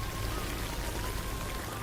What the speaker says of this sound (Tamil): பர்ச்சேசிங் முடிச்சுட்டு வெளியில் வரலான்னு பார்த்தா சரியான மழை